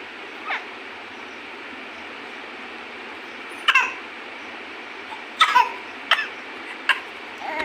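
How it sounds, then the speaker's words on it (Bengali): A person with a cold coughs at night indoors, several short separate coughs spaced apart over a steady quiet room hiss, some single and one in a quick cluster, with no talking. "কাশিও হচ্ছে দেখছি"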